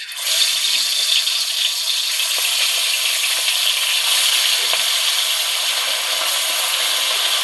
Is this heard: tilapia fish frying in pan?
yes